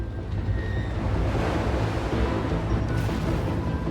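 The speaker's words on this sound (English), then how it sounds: "Hundreds of tons of water crashing down" Huge storm waves crash against a ship at sea in an apocalyptic storm, a continuous loud roar of surging water and wind with no talk.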